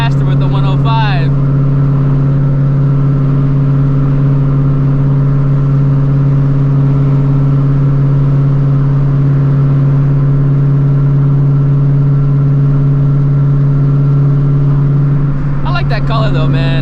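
Supercharged 900 hp Shelby GT350 with a Whipple-style blower accelerating hard through the gears: a loud, steady engine drone with strong low harmonics fills the cabin, with voices briefly at the start and end.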